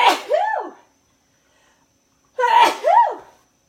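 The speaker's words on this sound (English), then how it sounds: "I sneeze in threes my whole life." Two loud, close sneezes from a person, each a sharp burst with a rising-falling cry, separated by about a second and a half of silence.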